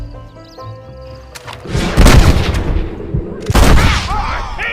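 Two loud gunshot bursts with booming tails ring out in the video game Red Dead Redemption, the first near the middle and a second about a second and a half later, over a quieter background of game music and ambience.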